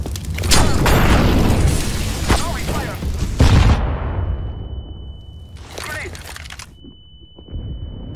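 Gunfire and heavy booms in a competitive Counter-Strike: Global Offensive match on the Mirage map come in loud, dense bursts. They thin out into quieter shots with an electronic tone.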